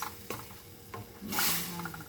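Sardines sautéing in a pan: a soft, faint sizzle and hiss with a few light stirring scrapes, brief and close.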